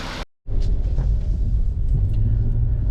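A cheap car with a freshly repaired motor mount pulls away, its engine rumbling loud and close in a steady low drone after a brief cut, with no talking.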